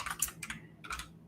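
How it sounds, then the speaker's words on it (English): Fingers type on a computer keyboard close by, with a few quick clusters of clicking keystrokes broken by short pauses, and no voices. "as I'm typing it."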